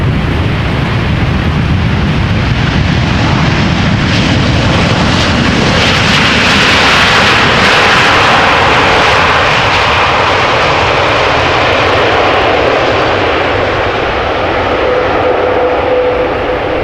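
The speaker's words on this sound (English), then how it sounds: "Two Dreamliners arriving parallel to each other" Two Boeing Dreamliners landing side by side at Amsterdam Schiphol, a loud continuous jet engine roar with a rushing, hissing peak in the middle, heard alone without voices.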